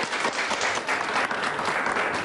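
Audience at a folk music event with a saz ensemble applauding steadily, a dense, continuous round of clapping with no gaps.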